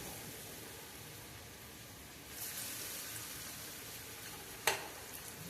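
Potato fritters deep-frying in oil in a kadhai, a steady broadband sizzle that swells around the midpoint, with a sharp clink near the end; no talk.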